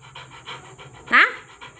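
A pet dog pants rapidly and rhythmically close by in quick, even breaths, while a voice briefly speaks over it midway.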